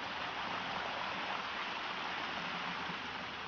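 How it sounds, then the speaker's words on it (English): Water spills steadily down the stone steps of a stepped garden cascade at a country house, a continuous, even rushing hiss with no breaks or voices. "as the water goes off, each step makes a different sound"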